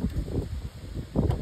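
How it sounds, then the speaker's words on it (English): Gusty wind blowing outdoors buffets the microphone in low, uneven rumbles, strongest at the start and again near the end of this brief moment. "Oh, it is really windy out here."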